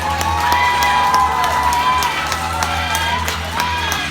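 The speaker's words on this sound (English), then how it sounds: "Maybe if we give Gibson a little bit of encouragement, he'll make his way up through space. Can you give him some applause?" A crowd at Grant's Farm claps and cheers to encourage a tortoise named Gibson, lively applause mixed with children's shouts and whoops over a humming background.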